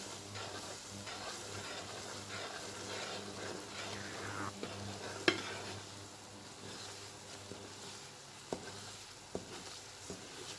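A kuymak mixture, a Black Sea cornmeal and butter dish, is roasted in a pan with gentle stirring, producing a faint sizzle, soft scraping and a few light utensil clicks.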